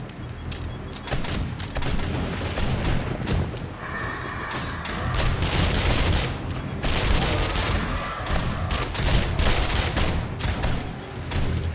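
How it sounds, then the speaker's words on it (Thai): An electric turret in the zombie survival game 7 Days to Die fires continuous rapid volleys, sharp crackling gunfire bursts rattling on and off in dense clusters for several seconds. "รู้สึกว่าป้อมจะยิงช้าไปหน่อยนะคะ"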